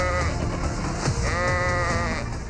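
Goats bleat at an animal farm, a close, wavering cry rising over a steady background of farm noise.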